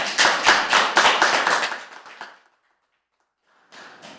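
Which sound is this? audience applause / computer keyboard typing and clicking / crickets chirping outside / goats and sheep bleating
audience applause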